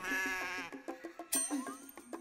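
A goat bought for Eid bleats several times in a row, loud and close, each cry a wavering, nasal call with short gaps between them and no talk over it.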